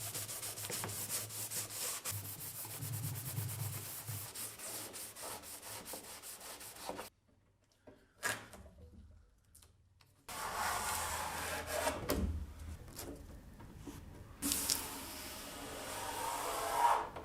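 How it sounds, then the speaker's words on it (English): Wood being sanded by hand with 400 grit sandpaper while a trashed chest of drawers is refinished: steady rasping strokes run continuously, then pause briefly before further bursts of close, loud rubbing. "I'm using 400 grit on some areas just to make sure it's super smooth"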